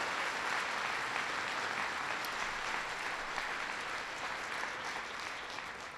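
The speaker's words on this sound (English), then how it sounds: "I want to give them a big round of applause." A large crowd applauds steadily for several seconds, a dense, even wash of clapping with no voices standing out.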